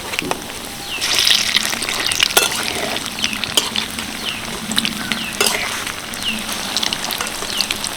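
Onion-coated snack rolls frying in hot oil over a medium flame, turned over after one side browns; a steady soft sizzle continues throughout, with occasional louder crackles and light clinks of the utensil.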